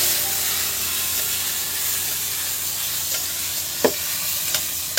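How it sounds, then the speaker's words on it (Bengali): Potatoes fry in oil with panch phoron, five whole spices, giving a steady bright sizzle and hiss close by, with a couple of brief clinks of stirring near the end. "আর এই তেলে আলু ভাজা হচ্ছে"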